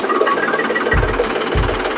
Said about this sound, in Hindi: अब हम ट्रैक्टर को स्टार्ट कर सकते हैं।